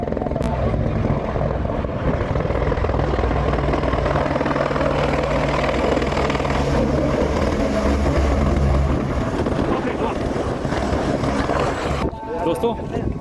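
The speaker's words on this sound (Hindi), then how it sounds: "सामने से आ रहा है हेलीकॉप्टर।" Helicopter approaching the Kedarnath helipad, a loud, steady rotor and engine roar that holds throughout in the cold mountain air, with faint voices beneath it.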